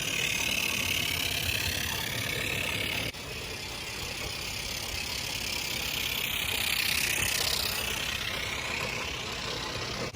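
A live steam Mamod Brunel geared engine runs with a Summerlands chuffer fitted, giving a steady, close hissing chuff that carries on without a break and with no voices.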